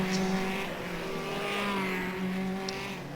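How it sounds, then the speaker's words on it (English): Classic hot rod race cars lap a track at Hednesford, engines droning at a distance with smooth rising and falling pitch as they pass. "you don't need a big field of cars to go racing in the classic hot rods"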